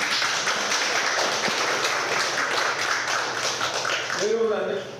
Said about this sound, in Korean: 뜨거운 박수로 맞이해 주십시오.